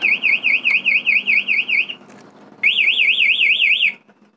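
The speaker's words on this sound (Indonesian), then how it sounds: "ketika kunci kontaknya itu dibobol, alarmnya tetap berbunyi" An MP One Way motorcycle alarm wails loud and close in a rapid warbling siren, pulsing for about two seconds, pausing briefly, then warbling again before cutting off.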